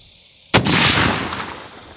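A single sharp, loud report from a Barrett M200 sniper rifle, with a sudden crack followed by a long booming echo that fades over about a second and a half, heard outdoors with no talk.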